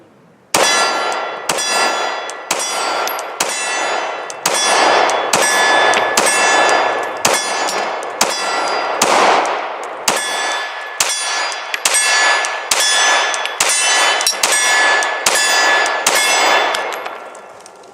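A handgun fired repeatedly at a shooting range: a rapid, fairly even run of about twenty loud, sharp shots, each ending in a bright metallic ringing clang, heard up close with no talking.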